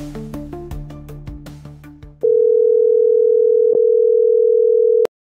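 Phone call tones: a quick run of descending chimed beeps, then a steady, loud continuous dial tone that holds for about three seconds before cutting off abruptly.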